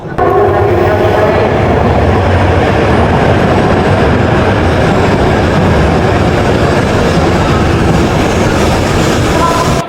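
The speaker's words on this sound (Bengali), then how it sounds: "আমরা শিনকানসেনে উঠবো, এখন বুলেট ট্রেনে উঠবো, চলে এসেছি স্টেশনে" A Shinkansen bullet train at a Japanese station platform, heard as a loud, continuous rumbling roar of rail noise that stays steady throughout, with no voices.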